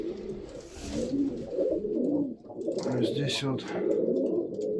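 Yellow-maned and black-maned pigeons coo steadily in a crowded loft, a dense continuous murmur of overlapping coos close by, with someone speaking over it.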